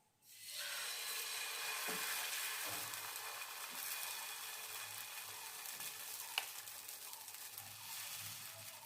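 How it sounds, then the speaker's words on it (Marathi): Mixed vegetables (onion, capsicum, cabbage, carrot) sizzle and fry steadily in oil on a hot tawa while making uttapam, a continuous close crackling hiss with a few faint stirring knocks and no talking. "पण तव्यात थोडं तेल टाकू"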